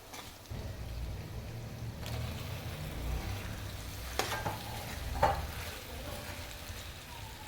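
Pasta going into a frying pan with softened, spiced vegetables and being stirred, a soft continuous sizzle with scraping utensil strokes and a few louder clacks against the pan.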